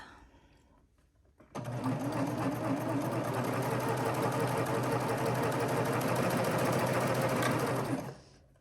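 A sewing machine sews two lined-up raw edges of a pocket, starting abruptly after a quiet moment and running at a steady, even pace for several seconds before stopping, close and loud with no talk.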